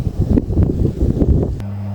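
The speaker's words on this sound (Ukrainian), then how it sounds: "Зараз тільки сховаюсь, бо дуже сильний вітер." Loud, buffeting wind roars against the microphone in rumbling gusts outdoors in a garden, then cuts to a steady low hum near the end.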